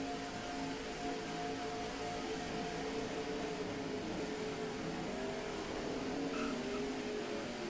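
NASCAR Nextel Cup race car engine in a video game, a steady droning engine tone holding at a sustained level throughout, with a slight shift in pitch later on, no voices.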